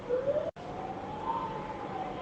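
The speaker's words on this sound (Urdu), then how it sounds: "سائرن بجاتی ہوئی" A police patrol car siren wails with a faint rising and falling tone, briefly cut once, under steady background hiss with no talking.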